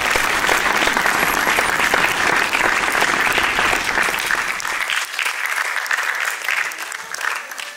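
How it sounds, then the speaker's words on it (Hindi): Loud applause from an audience for the United Sikh Mission team at a Sikh arts and film event, dense sustained clapping that thins slightly in the final seconds. "जोरदार तालियां United Sikh Mission की टीम के लिए"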